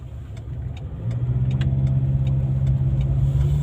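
A car engine heard from inside while driving, a steady mid-pitched hum that rises as the car accelerates after about a second, with faint ticking clicks over it.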